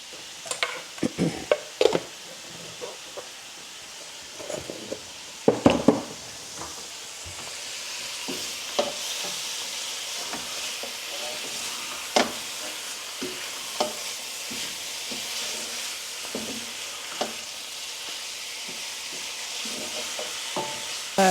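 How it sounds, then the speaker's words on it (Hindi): Meat searing in a pot for a turnip and mutton curry, a steady sizzle and hiss throughout with frequent scraping stirs and clinks of the spoon, close and loud with no talk. "दो 3 मिनट आपने इसको भूनना है।"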